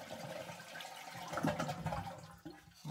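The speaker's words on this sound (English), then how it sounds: "Now we're going to flush the toilet to get that water out of there." A toilet with its tank lid removed flushes nearby, giving a moderate, gurgling rush of draining water that swells and then tapers off, followed by faint trickling as the tank empties.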